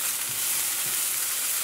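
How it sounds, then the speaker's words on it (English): Chopped onion softens in a hot oiled pan, giving a steady close sizzle with faint stirring scrapes over a brief stretch. "I just want to soften the onion before we add in our garlic."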